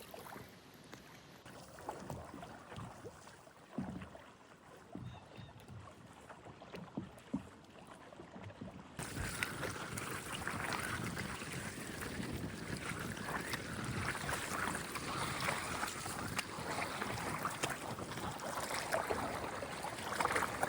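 Wind buffets the microphone while water sloshes and splashes around a canoe being paddled on a lake in Algonquin wilderness, the noise growing fuller and steadier partway through.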